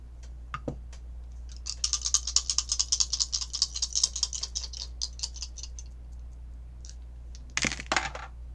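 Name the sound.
astrology dice being rolled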